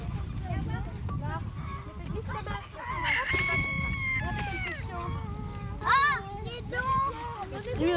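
Rooster crowing in a farmyard, several bright rising calls and clucks under close French conversation from nearby people.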